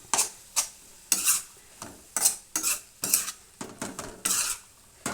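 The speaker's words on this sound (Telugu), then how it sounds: "కొంచెం అల్లం వెల్లిపాయ పేస్ట్ వేసుకుందామండి" A spoon scrapes and taps against a pan in quick separate strokes while ginger garlic paste goes in, each stroke a short metallic clatter with a faint sizzle between, close and alone.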